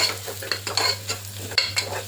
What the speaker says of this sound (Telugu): ఈ కారం కూడా మంచిగా వేగాలండి